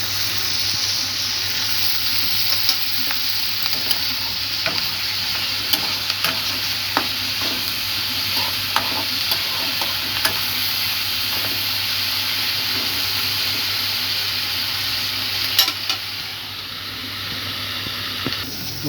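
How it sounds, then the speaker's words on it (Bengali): Onions and capsicum sizzle steadily in a hot pan, with frequent clicks and scrapes of stirring over a constant frying hiss. The sound is close and fairly loud, and nobody speaks. "এরপরেই শুরু হবে পেঁয়াজ ক্যাপসিকাম ভাজা"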